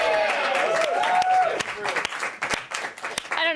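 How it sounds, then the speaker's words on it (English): A studio audience claps in a brief, dense burst of applause that fades within a few seconds, with people talking over and after it. "I don't know why I'm clapping for that."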